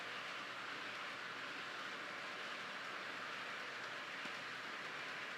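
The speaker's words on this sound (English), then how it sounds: "it gets to be too much with all the track noise" Steady rumble and hiss of train track noise from a train game, a continuous, fairly quiet wash of rolling rail sound with no voices.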